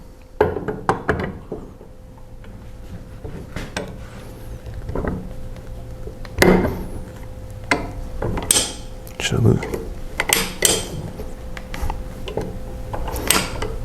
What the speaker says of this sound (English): show you how to pull out the knife on these